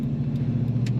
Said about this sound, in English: This one has a great rumble to it.